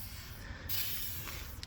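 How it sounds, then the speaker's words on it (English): A short, faint hiss of WD-40 aerosol sprayed onto a bicycle chain, a steady broadband spritz lasting about a second in a quiet room. "Spray a little bit of WD-40 on the chain."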